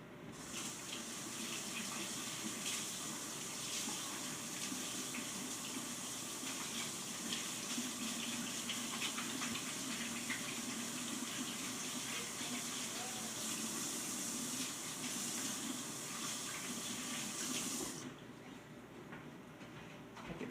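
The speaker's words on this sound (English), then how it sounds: "Let me go wash my hands, and we'll just let it sit there." Tap water runs steadily into a sink for hands being washed in a home kitchen, a continuous close rush that holds evenly for about eighteen seconds and then drops off as the flow stops.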